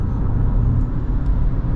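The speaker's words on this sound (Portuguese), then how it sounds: "Todos os motores ligados." A Haval H6 GT hybrid SUV accelerates hard with all its motors running, a steady, loud low rumble of engine and road noise continuing without a break, heard from inside the car.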